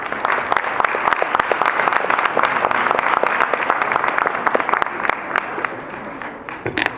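Applause from the audience at a Spanish-language social protection and ageing conference in Puebla greets a speaker: steady, sustained clapping from a fair-sized room that thins out toward the end, with no talk.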